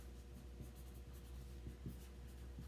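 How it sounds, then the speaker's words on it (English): Pen writing on the back of a transfer sheet, producing soft, faint scratchy strokes in a quick irregular rhythm over a low steady background hum. "But before I do that, I'm going to write on the back of this."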